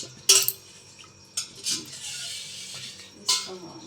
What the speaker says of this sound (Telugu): హాట్ వాటర్లో వేరే గిన్నెలోకి అయితే వేసుకుంటున్నాం